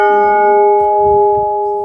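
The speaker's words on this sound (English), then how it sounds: "I really have got to ring that bell." A ship's bell aboard the Queen Mary 2 cruise liner, struck once and ringing on as a loud, clear sustained tone that slowly fades.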